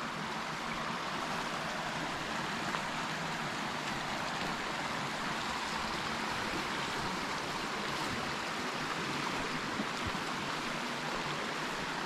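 A clear river runs over clean stones in a forest beside a remote village, a steady, even rush of flowing water that continues unbroken with no voices.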